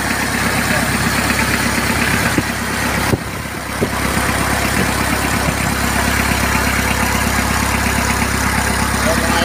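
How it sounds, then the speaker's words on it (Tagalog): A Toyota 2C turbo diesel engine idles loud and close, with a steady, even rumble and fine rhythmic knocking that runs throughout and dips only briefly once. "Yan, 2C engine po ito, Toyota 2C engine."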